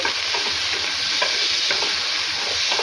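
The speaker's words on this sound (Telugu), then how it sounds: "ఇదే కడాయిలోకి ఒక రెండు మూడు టమోటాలు యాడ్ చేసుకోవాలి లో ఫ్లేమ్లో పెట్టేసుకొని టమోటాలని చక్కగా ఫ్రై చేసేసుకోవాలి" Tomatoes frying in a kadai over a low flame give a steady, close sizzle, with soft scrapes and stirs breaking through now and then.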